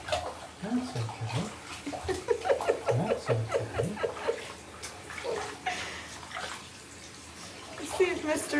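A Labrador puppy splashes in a kitchen sink during a bath, with repeated irregular sloshes and drips of water close by, while people chatter and laugh.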